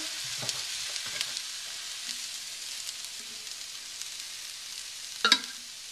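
Kale tossed in a hot frying pan, with a steady sizzle throughout and a few soft stirring clatters, the last one louder.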